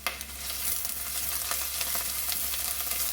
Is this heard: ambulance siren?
no